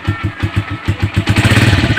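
A motorcycle engine is kicked into life, first with a series of evenly spaced loud cranking pulses, then catching into a fast, rough, throbbing idle close by.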